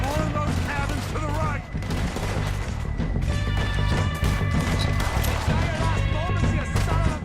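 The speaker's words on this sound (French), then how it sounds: "Ça tire vers moi par là, mais j'arrive pas à le voir." Gunfire in Red Dead Redemption 2, repeated shots and impacts crackling over a busy game soundscape with music and effects, fairly loud and continuous.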